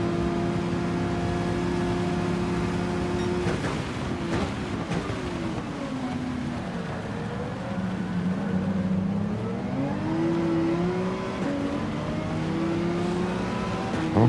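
A race car engine from Gran Turismo 7 drones steadily and loudly, with pitch rising and falling through gear changes and a sharp shift partway through, on a track drying out after rain.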